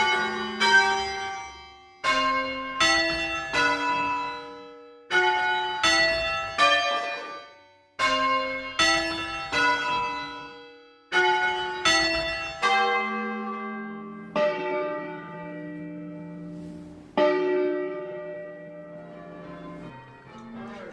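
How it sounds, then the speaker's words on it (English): Virtual carillon bells ring out tunes in a town marketplace during a festival, a sequence of bright struck bell notes in melodic phrases, each ringing and decaying before the next strike, with no talk. "All of these tunes were played on the virtual carillon in the marketplace"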